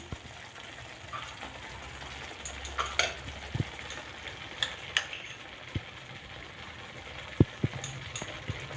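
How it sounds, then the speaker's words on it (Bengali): Ghee and a little sugar stirred into a thick spinach palak paneer gravy in a pan, a soft low bubbling sizzle under scattered spoon clicks and scrapes against the pan. "এবার এর মধ্যে আমি মিক্সড করব ঘি আর অল্প চিনি"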